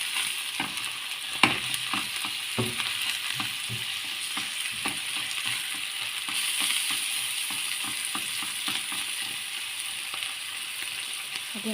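Four beaten eggs in a hot pan are stirred, with steady sizzling frying under repeated scraping and clicking strokes of the utensil, close and continuous with no talking.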